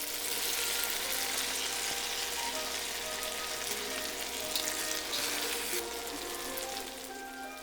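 Eggs and rice noodles for pad thai frying in a hot pan, giving a steady, dense sizzle that holds at an even level throughout with no voices.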